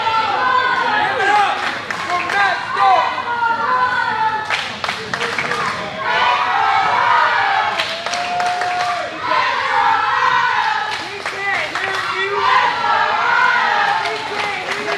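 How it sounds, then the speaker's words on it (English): Crowd at a wrestling event roars and chants loudly in waves, with rhythmic bursts of clapping and cheering, while a commentator speaks over the noise throughout. "Crowd chanting Desperado throughout the building as Matt St"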